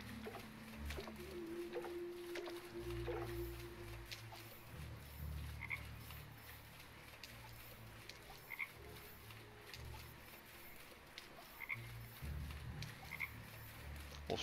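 A cartoonish frog croaks repeatedly in a puzzle scene of the Dark Parables hidden-object game, with low guttural croaks recurring throughout over a watery game ambience and no talk.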